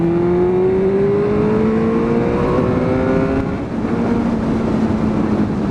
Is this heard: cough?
no